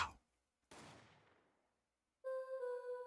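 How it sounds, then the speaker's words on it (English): A single gunshot rings out in the Apollo Justice: Ace Attorney video game, a sharp crack decaying into a fading echo, followed by a sustained bright musical tone; no talking. "That was one gunshot, not two"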